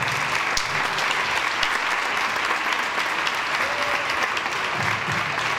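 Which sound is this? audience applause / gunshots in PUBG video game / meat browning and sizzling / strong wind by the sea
audience applause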